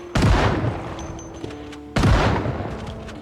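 Two loud, close shotgun blasts in Project Zomboid fired at zombies, spaced about two seconds apart, each with a sharp crack and a rumbling tail.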